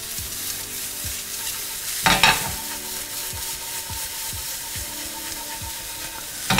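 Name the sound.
stir-frying hot dog filling with grated paneer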